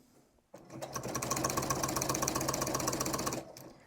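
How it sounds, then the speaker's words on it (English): A sewing machine stitches a reversible table runner. After a brief quiet start, the motor whirs in a fast, steady, rattling run for about three seconds and then stops, close up and loud, with no voices. "Then I'm just going to back stitch it a little bit so that I don't lose that thread and cut it"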